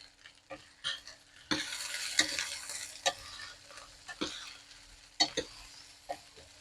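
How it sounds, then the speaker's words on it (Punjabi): Onions frying in a pan as okra masala gets started, with a faint steady sizzle broken by repeated close scraping and stirring strokes at an uneven rhythm. "ਥੋੜਾ ਜਿਹਾ ਆਪਾਂ ਇਹ ਗੰਡੇ ਭੁੰਨਾਂਗੇ"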